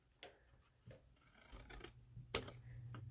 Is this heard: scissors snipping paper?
yes